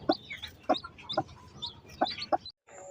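A hen brooding quail eggs clucks at close range, with about five short, sharp clucks spaced irregularly and a brief silence near the end.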